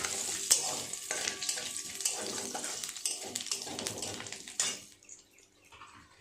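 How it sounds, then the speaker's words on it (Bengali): A dried red chili and a small spoon of nigella seeds crackle and spit in hot oil, a bright, dense sizzle with a few clinks of a utensil before it suddenly quiets near the end. "ফোড়নে দিয়ে দেব একটা শুকনো লঙ্কা আর 1/2 চামচেরও কম কালো জিরে"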